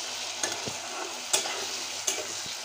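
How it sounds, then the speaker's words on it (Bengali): Chopped tomatoes and spices stir-frying in a pan for a dhaba-style paneer masala, with a steady sizzle marked by three sharp stirring scrapes spaced about a second apart, heard close and without talk. "আমি সুন্দর করে কষিয়ে নেব।"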